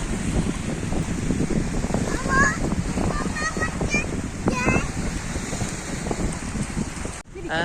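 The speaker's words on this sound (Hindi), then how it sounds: "आवाज़ ये जो आ रही है ये समुद्र में पानी की आ रही है" Sea waves wash onto a beach in Qatar in a continuous rushing surge. Wind buffets the microphone, and voices are faintly heard in the background.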